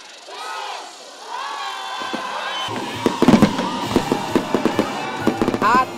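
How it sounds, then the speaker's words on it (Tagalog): Loud fireworks bang and crackle in a rapid, irregular burst at a New Year's community fireworks show in Metro Manila, with a crowd murmuring and cheering underneath. "makukulay na fireworks show"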